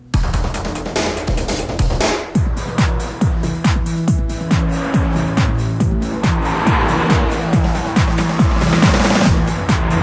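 Race cars at Mosport Racetrack roar past one after another, engines revving with repeated downshifts and rising and falling pitch, loud and continuous with some tire noise.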